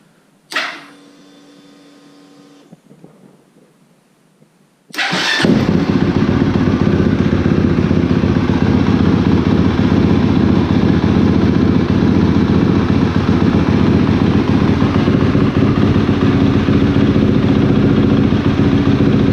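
After a few seconds of quiet with a brief faint whir, a KTM motorcycle engine fitted with a new Vortex ECU fires up abruptly and settles into a loud, steady, close idle with a throbbing low-end rumble.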